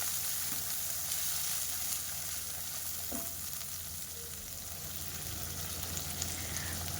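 Guvar (cluster bean) sabzi cooking in a pan with yogurt just added, producing a steady, soft, close frying sizzle with a faint clink or two of stirring.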